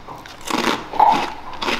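Crisp bites and chewing on sour cream and onion lentil and rice rings, a few crunchy bursts close to the mic with short pauses between them.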